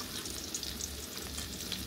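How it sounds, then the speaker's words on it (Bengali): Bora fritters fry in oil with a soft, continuous sizzle and faint crackles, quiet and without voices. "এপিট উপিট করে ভালো করে ভেজে নেব।"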